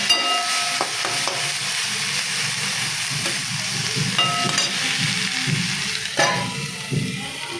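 Leafy greens (shaak) frying in an iron kadai in a Kolkata home kitchen give a steady, close sizzle, broken by occasional scrapes and stirs across the pan.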